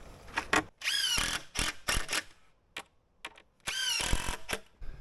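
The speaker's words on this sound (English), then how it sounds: "screwing it in place with 2 screws to start" A power drill drives screws into raised garden bed boards in several close bursts of whirring with rising pitch, separated by short pauses and small knocks.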